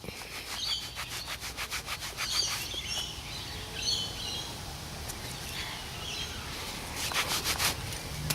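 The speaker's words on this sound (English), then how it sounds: "That's another penny. Let's give this one a rub." Dirt being rubbed off a found 1939-era Australian penny at a Sydney park, a soft repetitive scratchy rubbing close by, with birds chirping in the background.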